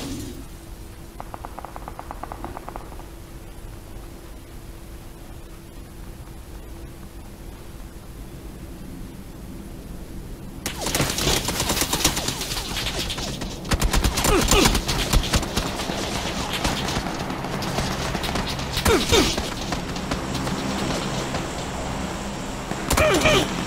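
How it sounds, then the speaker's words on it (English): Rapid bursts of PUBG gunfire rattle in a dense, noisy wash, growing louder and more continuous partway through. "There's about 3 different people in there shooting at various targets."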